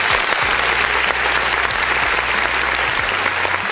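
An audience claps in steady, dense applause, with no voices heard over it, under a faint low electrical hum.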